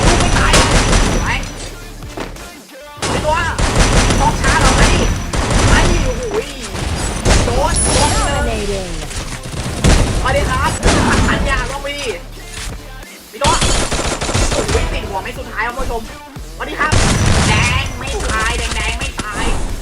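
Guns fire in the battle royale game Free Fire, with sharp, rapid shots and clattering bursts repeating throughout, mixed under steady lively talking.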